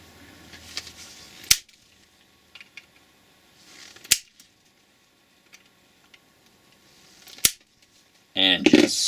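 Oetiker clamp pliers snap plastic tabs off a 2003–2005 Subaru Forester headlight housing: three sharp, isolated cracks spaced a few seconds apart, separated by quiet handling. A louder burst of rustling comes at the end.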